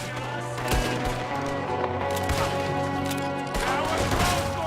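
Repeated gunshots crack through a Red Dead Redemption II shootout, several sharp bursts spread over a few seconds on top of a steady background tone and game sound.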